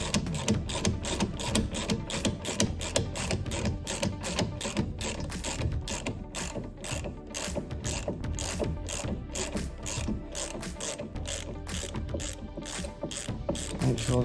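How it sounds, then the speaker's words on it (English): A ratchet clicks rapidly and steadily as it loosens a brake caliper bolt on a Ford Transit Connect, a dense, close, continuous run of sharp ticks. "We get a ratchet on it."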